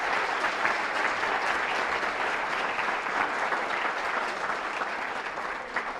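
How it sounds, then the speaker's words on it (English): A school awards assembly audience applauds the English award winners, dense, steady clapping from a large crowd that holds evenly throughout, with no speech over it. "one last round of applause for the English award winners."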